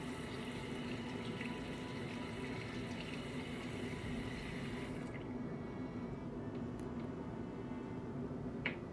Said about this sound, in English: Rinse the spatula off.